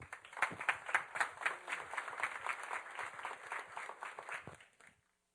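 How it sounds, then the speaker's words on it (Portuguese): An audience gives the evening's two guests a welcoming round of applause, a steady patter of many hands clapping that swells, holds, then tapers and cuts off into silence. "Vamos recebê-lo com um aplauso de boas-vindas."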